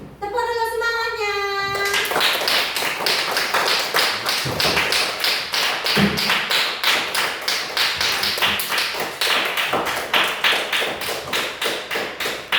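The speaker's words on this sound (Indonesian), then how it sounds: "Tepuk dulu semangatnya." Rapid rhythmic hand clapping fills a classroom, a steady run of sharp close claps lasting many seconds after a brief sung or chanted opening, with children's voices faint underneath.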